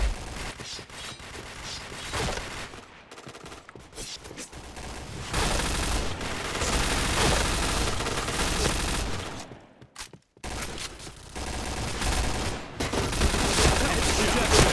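Rapid bursts of automatic gunfire from the online shooter game Point Blank, loud and dense with short gaps, mixed with game effects and some faint voice.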